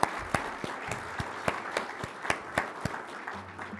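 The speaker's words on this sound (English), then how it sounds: "Let's give them a round of applause." A small audience at a regional awards ceremony gives a round of applause, with a thin, moderately paced patter of distinct claps continuing for a few seconds.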